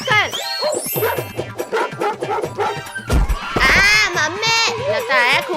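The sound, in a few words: dog attacking children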